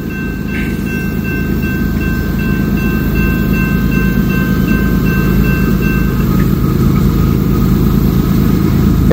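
A long CSX freight train, 350 axles behind a single lead locomotive, rolls steadily past a level crossing with a loud continuous rumble and wheel noise, a crossing bell ringing through much of it.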